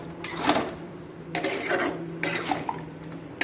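Ghugni being stirred in a kadai, with a utensil scraping and clattering against the pan in a few close bursts over a steady low background hum.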